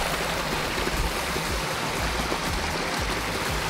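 Water runs steadily down a backyard pond stream, a continuous close rush and gurgle with no pauses and no talking.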